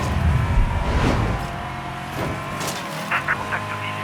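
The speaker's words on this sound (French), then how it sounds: "C'est le moment de voir quel genre de dégâts peut faire ta caisse, Roxy." Car driving in the video game Mafia III, with an engine drone and road noise running steadily, some tyre skid, and game voices talking over it.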